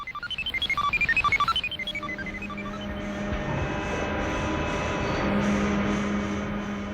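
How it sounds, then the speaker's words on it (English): Four-engine DC-8 jet heard from inside the cockpit, opening with a rapid series of beeping tones and pulsing engine spool, then settling into a loud, steady engine drone with a sustained hum beneath. "You're inside the cockpit of a four-engine jet aircraft, a DC-8."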